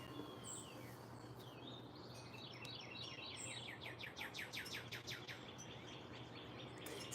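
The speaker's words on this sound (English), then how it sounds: "The birds are certainly just as loud here as they are at home, though." Birds chirp and trill from the trees at sunrise in Charlotte, a rapid repeating song phrase with scattered calls, moderately distant over a steady low background hum and faint insect buzz.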